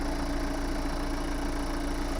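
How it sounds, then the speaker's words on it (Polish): A Kia Ceed car engine idles steadily and evenly with a low, constant rumble, close by and uninterrupted, with the bonnet open. "Silnik pracuje równiutko."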